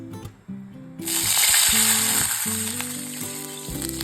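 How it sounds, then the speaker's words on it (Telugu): A cup of water poured into a hot kadai, just emptied after frying, bursts into a loud, steady sizzle after about a second and hisses on to the end, preceded by faint kitchen clinks. "ఇప్పుడు అదే కడాయిలో 1 కప్పు నీళ్లు పోస్తున్నాను"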